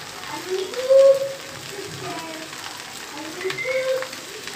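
Soy sauce hits Thai chicken fried rice in a hot pan, giving a steady frying sizzle with a brief louder hiss near the start and a smaller swell toward the end; a voice talks faintly underneath.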